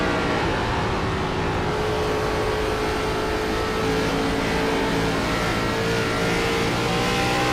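Race car engines drone and roar continuously at close range at Rockingham, a dense steady wash of revving motors with no pauses.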